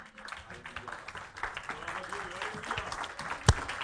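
A church congregation at a Sunday worship service claps while voices carry on over it, with scattered hand claps under the talk and one sharp, loud clap near the end.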